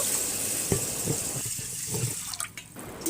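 Water runs into a pot of washed rice, a close, steady splashing pour with a few brief gurgles near the end, no one speaking.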